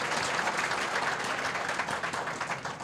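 A seated audience claps steadily in a short burst of applause, dense and even at moderate level without clear voices.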